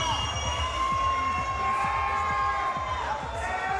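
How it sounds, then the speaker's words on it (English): Crowd cheering at a boxing or fight event as fighter Joe Neal enters near his hometown of Fresno, California: a continuous, dense roar of voices and whoops, steady and loud throughout. "Here's the accolades from the crowd"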